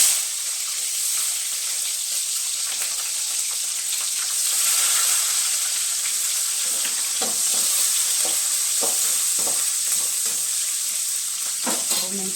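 Chili peppers frying in hot oil with cumin, a steady close sizzle with intermittent stirring scrapes and clicks from a spoon in the pan.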